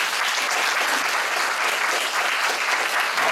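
A seated audience gives warm, dense applause to thank a host and speakers after a talk. The clapping is loud, even and continuous, with no break and no talking over it.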